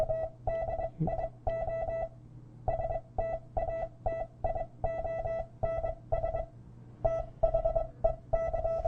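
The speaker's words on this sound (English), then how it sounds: "you have tuned in the CW signal at the right spot for the radio to be able to decode it" CW Morse code signal received on a Jupiter HF transceiver, a clear steady tone keyed in short and long beeps with brief gaps, alone over faint background hiss.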